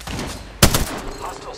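Gunfire in the game Apex Legends, a sharp loud burst of a few rapid shots clustered together over a busy background of game noise.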